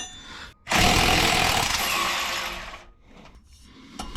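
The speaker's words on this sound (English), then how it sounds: "so I gotta get the impact" An impact wrench hammers loudly and close on an exhaust bolt under a Jeep CJ with a 4.0 engine, one sustained rattling burst of about two seconds that tapers off, followed by faint clicks.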